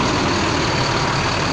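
A Mercedes-engined double-decker coach runs at a bus terminal in Rio de Janeiro, its loud, steady diesel drone rumbling close with no pauses or voices.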